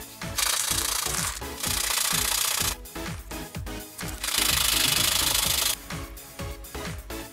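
Sandpaper rubbed by hand over small homemade DIY diffuser repair parts for a Suzuki Alto, close and loud, in rapid rhythmic scratching strokes coming in long bursts with short pauses.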